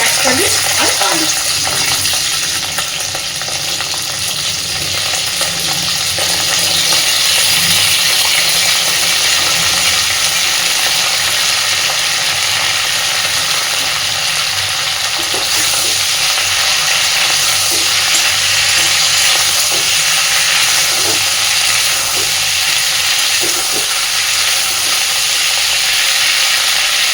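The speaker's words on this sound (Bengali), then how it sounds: "পরিমাণ মতন লবণ আর হলুদ দিয়ে সবজিগুলোকে আমি একটু ভেজে নেব" Cauliflower, onion and potato frying in a pan with salt and turmeric, giving a loud continuous sizzle with occasional stirring scrapes.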